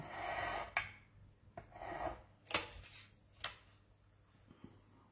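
A craft knife scores through paper for a triangular box, making short rasping strokes with a few sharp clicks at irregular intervals, close and quiet.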